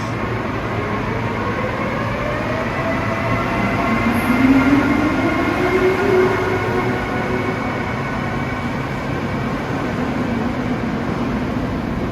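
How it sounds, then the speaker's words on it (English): SEPTA train 9225 bound for Newark, Delaware pulls out of Suburban Station, a loud steady electric hum and wheel rumble with a rising whine midway, heard alone without talk. "Gonna get the last bomber train, train 9225 for Newark, Delaware"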